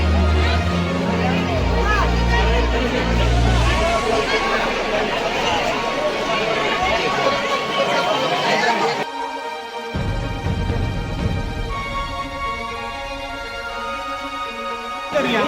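Dense crowd chatter and shuffling at the busy Bhimashankar Jyotirlinga temple, a thick continuous babble of many voices close around, shifting in texture partway through with a nearer voice briefly standing out.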